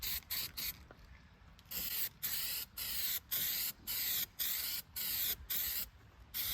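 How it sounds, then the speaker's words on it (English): Clear coating finish sprayed onto wood outdoors in a steady series of short hissing bursts, about a dozen evenly paced pulses separated by brief pauses, fairly close but soft. "we're just spraying this stuff on"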